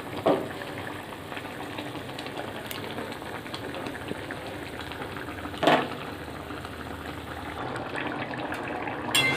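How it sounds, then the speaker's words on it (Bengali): Broth of a bottle gourd curry bubbling in a pot, a steady close simmering hiss with soft popping and a few louder spatters scattered through, heard alone without talk. "ঝোলটা ফুটছে"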